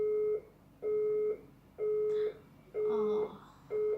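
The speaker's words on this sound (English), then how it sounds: "my phone is ringing at the background" Mobile phone ringing in the background, a repeating electronic tone in regular bursts about once a second, moderately loud, with faint talk or clatter mixed in toward the end.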